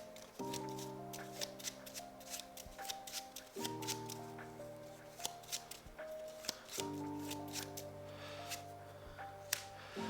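Board game cards from Final Girl are shuffled in a series of quick riffling bursts and soft slaps over about ten seconds, with steady background music underneath.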